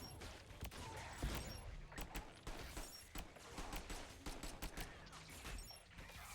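Automatic turret firing in the video game Sentry, a dense run of sharp gunfire bursts repeating steadily at close range amid chaotic in-game combat noise.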